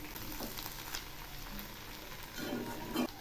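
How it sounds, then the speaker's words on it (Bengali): Sabudana khichdi is stirred in a pan with a spoonful of ghee, giving a soft, steady sizzle with faint scraping and louder stirring bursts near the end. Quiet and close, with no voices. "এবার নেড়ে চেড়ে নামাবো।"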